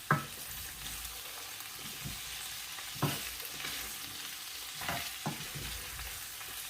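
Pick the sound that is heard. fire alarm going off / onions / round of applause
onions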